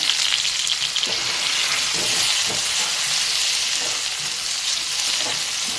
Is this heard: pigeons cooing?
no